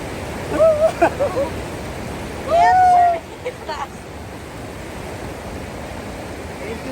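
Takakaw Falls in British Columbia, Canada, roars as a steady, close wall of rushing water. People talk briefly over it.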